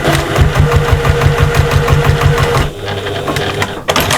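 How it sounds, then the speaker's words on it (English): A sewing machine top stitches across the webbing of a cross body bag, running in a fast, steady, close mechanical chatter for a few seconds before slowing to a lower hum and stopping with a sharp clunk. "then we're top stitching across our webbing"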